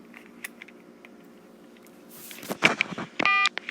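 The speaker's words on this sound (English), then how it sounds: "let's pick it up and dial" A Southwestern Bell FM-2552 trim line corded telephone dials a stored memory number, with a handset clatter followed by a quick burst of dialing tones at close range.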